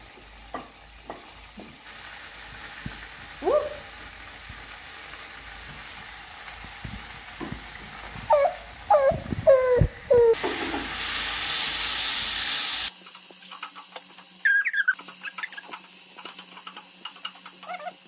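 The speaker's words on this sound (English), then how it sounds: "as I wait for my tomatoes to cook" Tomatoes sizzle in a pan during home cooking in a kitchen, a steady hiss and frying crackle with occasional stirring scrapes and clinks, close and moderately loud.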